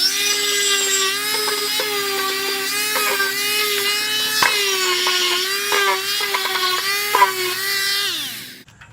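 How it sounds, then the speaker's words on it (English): An orbital sander works a single piece of wood around a hole for a primitive Adirondack-style chair, giving a steady, loud whine with shifting pitch as the pad moves, then cutting off at the end. "Orbital sander just around the hole."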